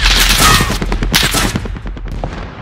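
Assault rifle gunfire in Call of Duty: Modern Warfare, a loud, close, rapid automatic burst that tapers into scattered shots and fading echoes over a few seconds, with no talk.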